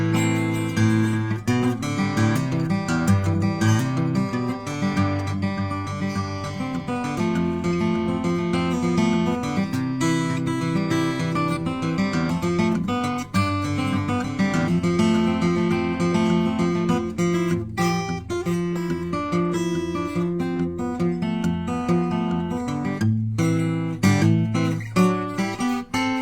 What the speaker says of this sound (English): It's a loud guitar.